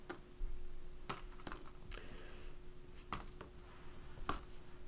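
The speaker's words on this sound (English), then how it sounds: "Rolling coins everywhere." Pennies spill from a penny box and clatter, several sharp metallic drops spaced irregularly with faint rolling between them, close and fairly loud.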